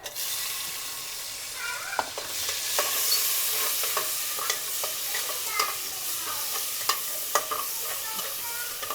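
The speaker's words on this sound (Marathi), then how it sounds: "टमाटा पण 2-3 मिनिटं परतून घेते." Tomatoes fry in a pan for chicken biryani, a close continuous sizzle broken by frequent spatula scrapes and clicks as they are stirred.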